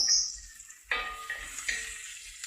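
Onions and garlic sautéing in butter and oil, a soft steady sizzle with a few sharper crackles and bursts as they hit the pan, close and fairly quiet.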